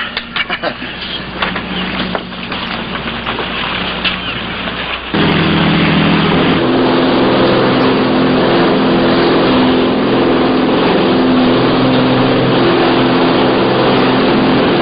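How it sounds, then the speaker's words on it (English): Boat engines run steadily on open water, a loud continuous mid-pitched drone that rises to a fuller, heavier roar partway through and holds without pause. "Cut engines and drop anchor right here."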